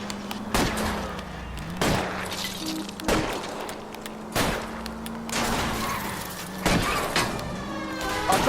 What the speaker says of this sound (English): I'm trying to shoot out his tires.